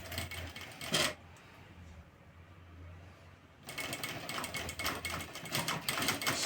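A sewing machine stitches piping along a square blouse neckline in two bursts of rapid mechanical whirring and needle clatter, separated by a short quiet pause, close and fairly loud.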